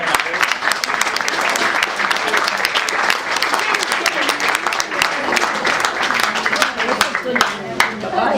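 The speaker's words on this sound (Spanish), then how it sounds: "Aplausos." Sustained applause from an audience at a conversation event in a bar, dense steady clapping throughout with murmured voices underneath.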